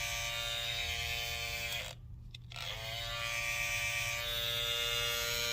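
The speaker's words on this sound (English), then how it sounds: "the new Andes GTX Evo trimmer" An Andis GTX Evo hair trimmer runs with a steady electric buzz, with no talk. The hum cuts out for about half a second near the middle, then resumes.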